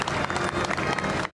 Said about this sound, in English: The King departing St. Giles to a muted round of applause.